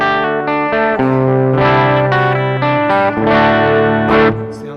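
A high-gain electric guitar run through a JOYO American Sound modeling pedal, loud overdriven chords and riffs played in steady strummed bursts with sustained ringing notes.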